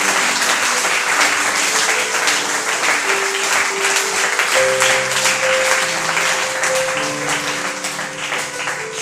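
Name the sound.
congregation applauding in church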